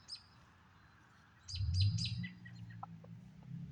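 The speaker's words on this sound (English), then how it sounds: "Seems like the birds up here, high in the tree up here." Birds chirp high up in a tree outdoors, a quick cluster of bright, sharp tweets followed by fainter scattered calls over low wind rumble.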